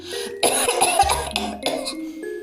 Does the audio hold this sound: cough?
yes